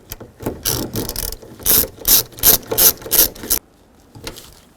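Ratchet clicking in a rapid run of about six short bursts as nuts are snugged onto an Infiniti G35 side mirror, close and loud, then going quiet.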